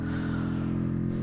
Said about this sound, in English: So you see how over revving the gear a little bit there actually damaged the engine a little bit.